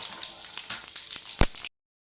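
Garlic and chili frying half-cooked in hot oil, a steady close bright sizzle with a few crackles and one sharp pop near the end before it cuts off.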